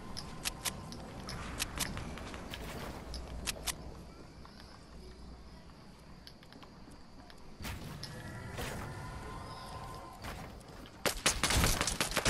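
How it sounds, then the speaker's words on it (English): Gunfire in a Fortnite match: scattered sharp shots crack out in short bursts across the stretch, with a heavier cluster of rapid shots near the end, over a steady background of game ambience. "there are kids trying to shoot me out"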